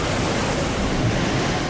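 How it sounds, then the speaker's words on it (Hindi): Floodwater of the swollen Tamas river near Rewa rushes through fields and town in a loud, steady, broadband roar, with no pauses or voices. "ये रीवा से बहने वाली तमस नदी है। भीषण उफान की वजह से नदी का पानी खेतों और शहरों के बीच से होकर बह रहा है।"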